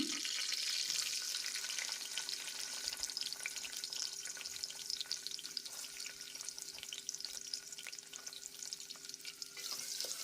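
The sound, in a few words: onions frying in ghee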